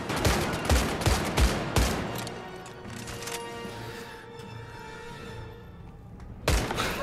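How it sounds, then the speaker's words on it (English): Heavy gunfire in the video game Medal of Honor: Above and Beyond, several loud rapid bursts of shots at the start, then a quieter rumbling stretch before another burst at the end. "heavy gun."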